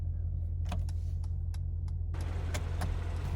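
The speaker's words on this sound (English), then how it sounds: "Turn signal isn't too annoying." The turn signal of a 2021 Mercedes-AMG E63 S sedan ticks inside the cabin, a run of sharp, evenly spaced clicks over a low engine hum, with a rush of broadband noise joining partway through.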